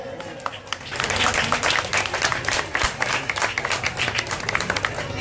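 Loud, dense applause from a crowd at a Ganesh festival ceremony held by a junior boys' club, steady throughout with some talk mixed in.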